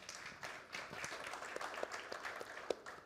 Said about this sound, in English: Applause to Rosa and Natanya.